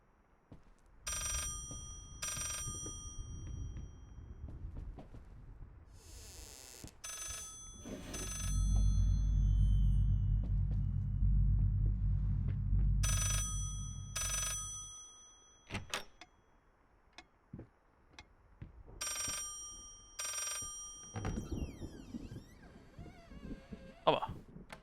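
An old telephone in the Layers of Fear horror game rings in repeated bright bell bursts spread across the stretch, with a low rumbling drone in the middle and scattered thumps and clicks.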